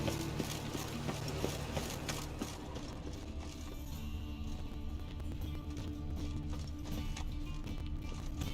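Hooves of Roach, Geralt's horse in The Witcher 3, clip-clopping at a steady trot under game music and ambience, quiet and continuous with no talking.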